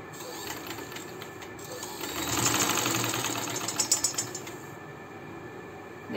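Sewing machine stitching lace onto an Anrakha-style kurti, a steady whirring run that swells midway and ends in a few louder rhythmic pulses, with no talking.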